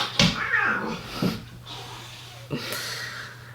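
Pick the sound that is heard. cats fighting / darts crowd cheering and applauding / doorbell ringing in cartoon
cats fighting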